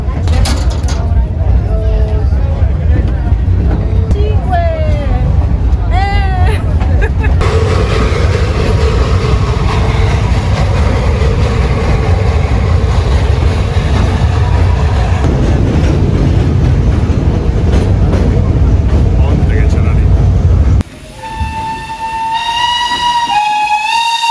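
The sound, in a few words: train running, passengers chatting aboard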